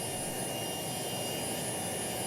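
Jet engine of a Citation C-560XL in the AirSim3D flight simulator, running on one engine during takeoff, a steady loud hissing roar with a whining tone, continuous and without speech.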